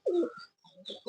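Pigeons cooing close by, a running pair of high-flying birds kept in a loft, with low throaty coos and some brief chirpy sounds in quick succession.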